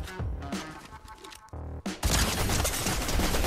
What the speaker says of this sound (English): He just got headshot sniped.